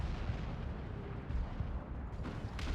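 Heavy artillery from a Manticore unit in Dawn of War 2: Retribution, a dense run of low booming blasts and rumble inside a busy 3v3 battle mix, with no voices.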